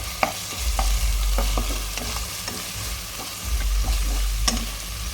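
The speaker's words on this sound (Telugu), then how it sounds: "దీంట్లో అల్లం పేస్ట్ వేస్తున్నాను" Ginger paste fries with softened onions in oil, giving a steady close sizzle punctuated by regular scraping stirs of a spoon against the pan; no voices.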